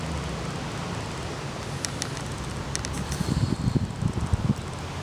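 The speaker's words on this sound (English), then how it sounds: "Listen to the wind blow." Wind blows steadily outdoors, a broad rushing noise with low gusty buffeting that strengthens toward the end, with no talking.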